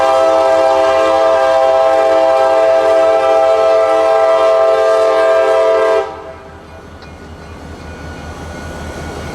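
A local freight train hauling mostly empty cars, plus gondolas loaded with old cross ties, passes close by with its horn blaring loud and sustained for about six seconds. The horn then cuts off, leaving the rumble of the rolling cars.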